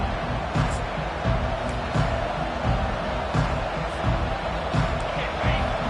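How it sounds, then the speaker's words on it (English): A large college football stadium crowd at Utah vs Michigan roars in a dense, continuous wash of noise, with occasional thumps and sharper bursts rising out of the din. "Listen to the crowd energy here in the early going."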